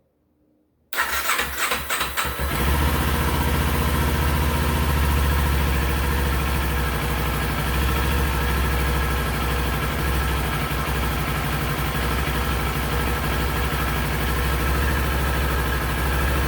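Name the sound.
Kawasaki Ninja 400 motorcycle engine starting and idling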